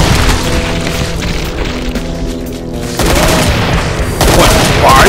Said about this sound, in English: Have a grenade!